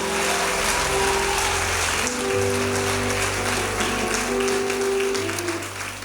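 A congregation applauding and cheering during a French-language church service, a steady dense wash of clapping that fills the space continuously, with music or held tones running underneath.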